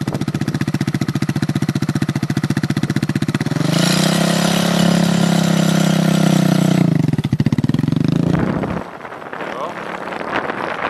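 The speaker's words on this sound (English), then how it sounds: "give it a little gas, you don't need it a lot, and let the clutch out slow" A motorcycle engine idles with a steady throb, then revs up and holds a higher note as a learner rider eases the clutch out and pulls away, before dropping back down; constant wind noise on the microphone throughout.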